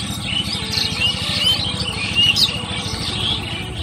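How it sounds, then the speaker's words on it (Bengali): Many birds, mostly mynas, call from a riverside tree in a village, a dense chorus of chirps and chatter over a steady buzzing insect-like hum, with no speech. "অসংখ্য পাখি রয়েছে, যে পাখিগুলো ডাকতেছে। বিশেষ করে পাখিগুলোর মধ্যে শালিক পাখি অনেক বেশি।"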